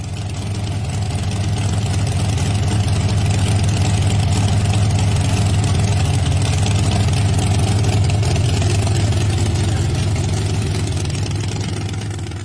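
A classic car engine idles steadily in a driveway for several seconds, a deep, even rumble with a constant low throb and no revving.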